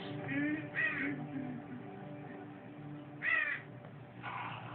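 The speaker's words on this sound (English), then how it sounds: "A crow lands on his cross." A crow cawing three or four times in harsh, separate calls over a low background murmur, moderately near.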